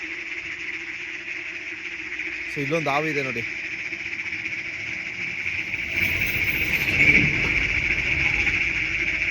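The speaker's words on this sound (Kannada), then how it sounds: "ಸೌಂಡ್ ನೋಡಿ ಕಪ್ಪೆ ಸೌಂಡ್ ಯಾವ ರೀತಿ ಇದೆ" Frogs croak in a continuous high chorus, with a voice speaking briefly over it.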